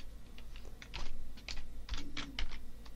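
Quiet, close clatter of typing on a computer keyboard, with a quick run of uneven keystrokes over a faint background hum.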